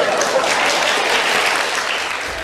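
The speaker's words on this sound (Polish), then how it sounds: "Po burzliwych oklaskach" Stormy applause from an audience at a debate featuring Janusz Korwin-Mikke, a dense, steady wash of clapping that stays loud throughout and tapers only slightly near the end.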